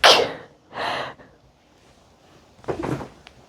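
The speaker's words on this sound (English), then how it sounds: "I'm going to sneeze again." A short, sharp sneeze bursts out, followed by a breathy burst and a faint shuffle, then another quick exhale a moment later.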